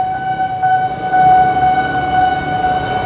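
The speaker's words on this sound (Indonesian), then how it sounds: "Kereta Untung udah lewat." A train passing a rail crossing on a back road near Parung, Sukabumi–Tangerang, heard as a loud sustained siren-like horn or crossing warning tone holding steady pitch over rumbling background for several seconds.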